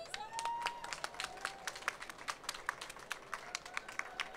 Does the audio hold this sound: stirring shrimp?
no